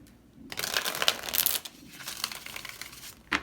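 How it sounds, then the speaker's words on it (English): Tarot-style cards riffle and flutter in a quick shuffle, a crisp papery burst followed by softer shuffling and a final snap, close and fairly quiet. "One more shuffle."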